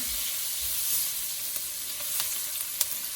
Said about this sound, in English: go ahead and add some onion. Add your bit of garlic, just a little bit. Stir that around.